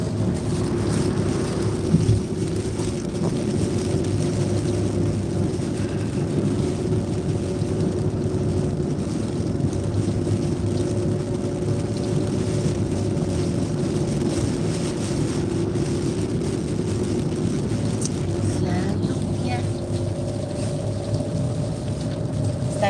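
Steady broadband rush of rain and road spray while driving on a wet highway from Carmel to Salinas, a continuous dense hiss with low rumble throughout, loud and unbroken, no talking.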